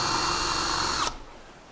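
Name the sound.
electric drill with socket adjusting guide rail height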